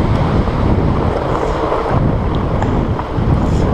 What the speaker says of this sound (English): Big waves, you can hear the big waves.